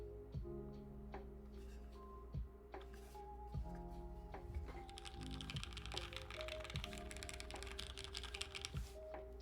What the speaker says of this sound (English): Evan, you finally have your first actual premium keyboard.